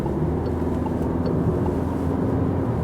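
A 2019 Peugeot 508 GT-Line in sport mode changes lanes, heard from inside the cabin as a steady, loud blend of engine drone and road rumble with no sharp events.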